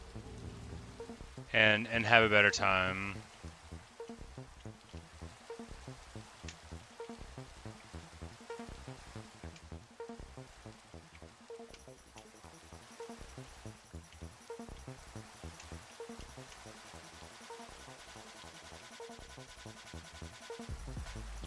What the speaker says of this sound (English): it's sad that they're getting rained on